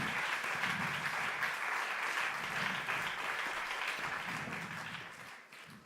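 Audience at a Slovenian televised music competition final giving steady, full applause after a performer is introduced, tapering off near the end with faint voices underneath.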